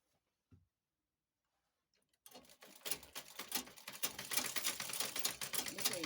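A sewing machine runs steadily while stitching the bottom hem of a hoodie-style abaya gown, its rapid rhythmic needle chatter starting after a quiet pause and continuing close and loud to the end.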